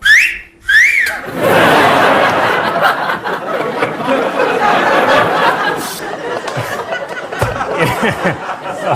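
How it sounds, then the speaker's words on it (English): Two short, shrill referee's whistle blasts at the start, followed by a noisy studio audience chattering and laughing. "they're still insisting that refs use this whistle"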